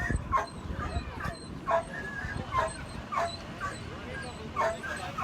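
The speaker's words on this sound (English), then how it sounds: "Those dogs are really close together." Rescued dogs, shelter animals flown in from the U.S. Virgin Islands and Puerto Rico to Fort Pierce, bark, yip and whimper in short repeated bursts from close by while people talk in the background.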